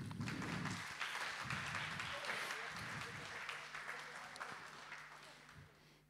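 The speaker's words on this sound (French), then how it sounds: "On l'applaudit." Applause from a church service congregation rises and fades over several seconds, with voices mixed in and the clapping thinning out toward the end.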